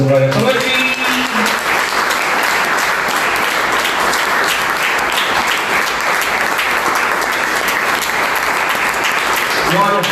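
A church congregation at an evening service applauds loudly for about ten seconds, a dense, continuous roar of many hands clapping that fills the hall, with a brief voice at the start and end.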